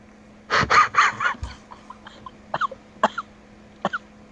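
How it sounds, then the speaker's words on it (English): During a tabletop fantasy role-playing game, a person gives a burst of several quick, close coughs, followed by a few softer, scattered throat sounds, as if acting out a character's cough. "You want to cough to death and die?"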